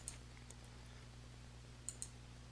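A computer mouse clicks faintly a few times, single and paired light ticks scattered over a low electrical hum, with no talking.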